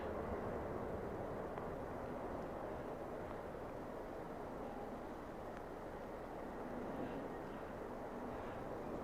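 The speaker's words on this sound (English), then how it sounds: "if we can hear the aeroplanes in the background, can we?" An aeroplane comes in to land at Heathrow, a steady broadband jet roar heard from a distance and holding at an even, faint level throughout without talk.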